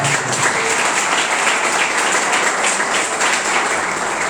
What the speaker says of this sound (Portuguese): Você pode aplaudir a Jesus mais uma vez por essa palavra